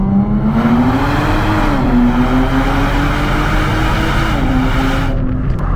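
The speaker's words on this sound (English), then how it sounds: "Now, it moves quickly and it feels good, but if you'll notice, there is a serious lack of exhaust sound." Nissan 400Z accelerating hard, a steady smooth engine drone rising and dipping in pitch with only a subdued, quiet exhaust note, continuous and close throughout.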